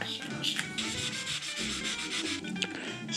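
Fine-grit 1500 sandpaper rubbing over painted bike parts, a steady close scratchy swishing that keeps going in short back-and-forth strokes with no pauses or talk.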